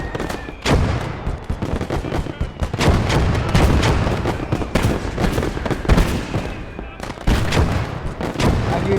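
Heavy mortar and artillery fire in a war video game, dense repeated booms and blasts rolling almost without pause, loud and close, with faint voices mixed underneath.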